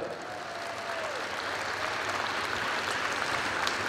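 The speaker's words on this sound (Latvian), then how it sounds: "Aplausi Ivetai!" Audience applause for Iveta Sviklāne at a State Police anniversary celebration in Arēna Rīga, a large indoor arena; steady, dense clapping from a big crowd that holds throughout.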